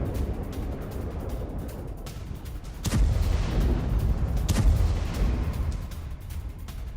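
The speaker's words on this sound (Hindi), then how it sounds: "एक के बाद एक कई धमाके हुए।" Several explosions from an attack in Isfahan, Iran, in news footage: a continuous low rumble with two sharp, heavy booms standing out from the din, distant and loud, with no talk.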